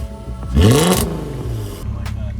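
A Subaru WRX STI at a Copart salvage auction, warmed up, gives one sharp throttle blip that rises and falls quickly, then idles with a low rumble close by, preceded by brief talk.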